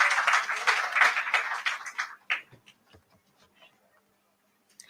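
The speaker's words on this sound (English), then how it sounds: "Let's give a round of applause to Alhaji Omar Mansal." An audience at a book fair in the Gambia applauds a speaker: a burst of clapping for about two seconds that thins into a few scattered claps and then near silence.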